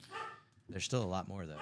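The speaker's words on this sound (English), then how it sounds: "Sorry for the dog." A dog barks a few times close by, overlapping with people talking in a room.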